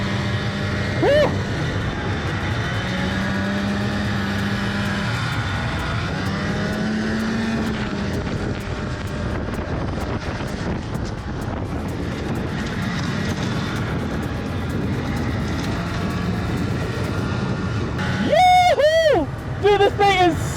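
A snowmobile engine drones steadily while being driven, with pitch rising and falling as the machine moves. Brief whistle-like squeals come near the end.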